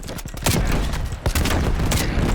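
A Street Sweeper shotgun in Call of Duty: Black Ops Cold War fires several loud, punchy blasts in quick succession, close and booming, with a brief gap before the next shots.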